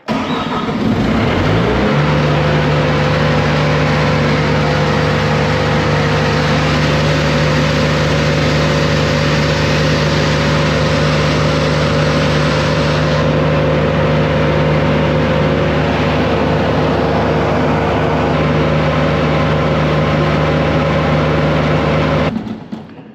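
A Bobcat skid steer's diesel engine cranks and fires, then settles into a loud, steady running drone that continues for about twenty seconds before stopping.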